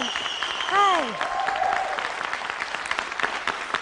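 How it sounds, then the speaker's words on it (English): Audience applause greets a woman being introduced at a presentation, a steady wash of clapping that swells early and holds throughout, with a few voices and whoops rising over it. "give her a round of applause"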